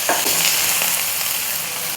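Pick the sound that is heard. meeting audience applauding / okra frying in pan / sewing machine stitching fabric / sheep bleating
okra frying in pan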